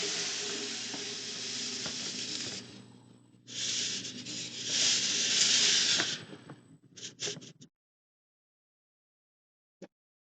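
Sand pours into an aquarium tank in a steady rushing hiss, pausing briefly, then a second longer pour with a few short trickles before silence and one faint tap, close and without speech.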